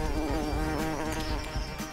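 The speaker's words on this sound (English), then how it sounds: "Bees are getting angry." A dense, steady insect buzzing fills the whole stretch, loud and close, with many wings droning together and no voices.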